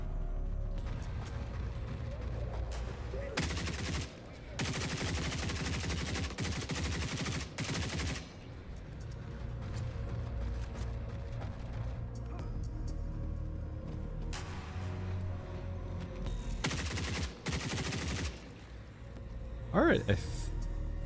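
Automatic turret fire in the shooter game Forever Winter, bursts of rapid gunfire coming in several long volleys with gaps between, loud, with a player's voice talking over parts of it.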